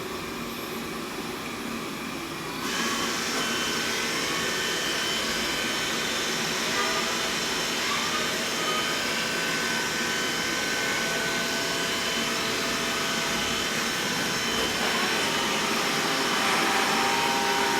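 A Xiaomi robot vacuum starts cleaning a floor scattered with dander, hair, dust and oats, its motor and suction spinning up after a couple of seconds into a loud, steady whirring hum that holds throughout.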